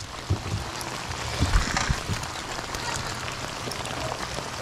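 Rain falls steadily on a smallmouth bass fishing trip in Colorado, a dense, even patter with a few louder drops and knocks close by, no voices heard.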